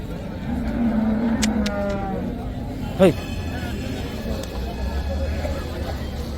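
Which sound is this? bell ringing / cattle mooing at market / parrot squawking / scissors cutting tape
cattle mooing at market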